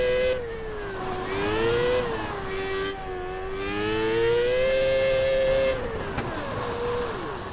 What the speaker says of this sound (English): it's just hitting the limiter, spinning the tires